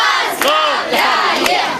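Crowd at a burger club opening shouting congratulations, loud overlapping voices rising and falling in repeated bursts of cheering, close and energetic.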